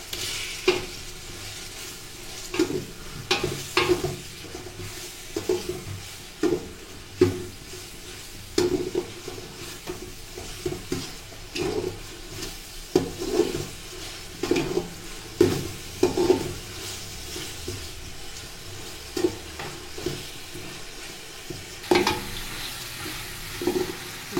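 Tomatoes sautéing in a pan for mutton biryani: a continuous sizzle broken by repeated scraping and knocking strokes of a spoon stirring against the pan, close and fairly loud.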